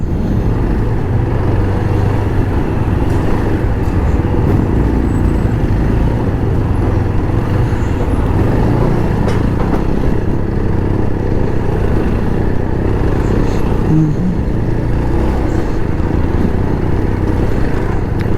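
Steady, loud engine rumble of motorcycles and vehicles idling and creeping in dense traffic on the road to Ladakh, continuous throughout with no talking.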